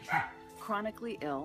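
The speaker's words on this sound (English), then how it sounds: "That's my dog Lola saying hello." Lola, a pet dog, lets out a few short barks and yips at close range, mixed in with a person talking.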